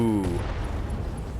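An LRM turret blows up in the mech combat game RogueTech, a single heavy low boom that rolls off into a rumbling tail, with a brief tonal hum fading at the start.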